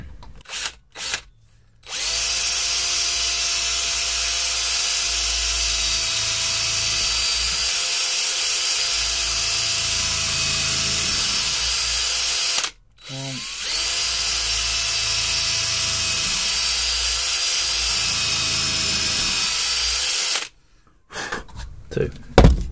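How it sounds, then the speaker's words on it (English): A power drill whines steadily for long stretches while drilling holes to depth in a vintage Stanley plane, stopping briefly twice, with loud continuous motor noise close by. "now I can drill them to depth properly"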